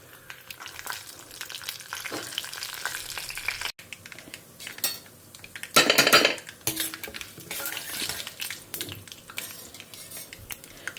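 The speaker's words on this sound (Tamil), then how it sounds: "இப்போ எண்ணெய் சுட்டுடுத்து நான் கடுகு, உளுத்தம்பருப்பு, கடலைப்பருப்பு தாளிக்கிறதுக்கு போட்டுக்கிறேன்." Mustard seeds, urad dal and chana dal crackle and sizzle in hot oil for a South Indian tempering, with close bursts of frying, pan clatter and a spoon stirring, loudest in the middle.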